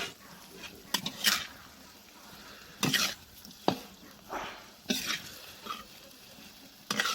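Vegetable curry is stirred in a pan, with several brief scraping and clattering bursts of the spoon against the metal over a faint sizzle in between.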